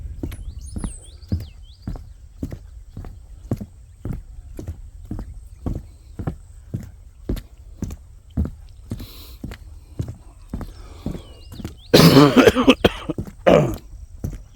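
Outdoors at Anahuac National Wildlife Refuge, a man coughs several times in harsh, loud bursts near the end, following a long run of steady rhythmic knocks.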